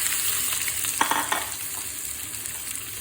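Food frying in oil in a pan, a steady close crackling sizzle with a few brief louder spatters as it is stirred.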